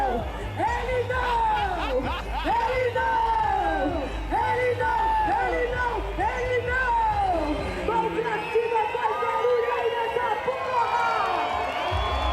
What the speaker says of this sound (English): She's performing to her biggest crowd ever.